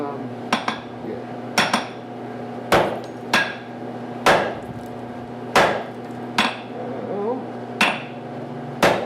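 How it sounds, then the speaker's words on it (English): A hammer strikes a hot steel bar on an anvil in a forge shop, about a dozen loud metallic ringing blows in an uneven rhythm, some in quick pairs, over a steady low hum of the forge. "So I want to go where my forging starts and stops, right about there."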